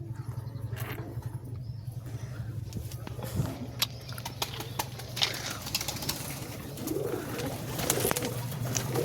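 Pigeons coo softly and repeatedly over a steady low hum, with scattered clicks and faint bird calls around them.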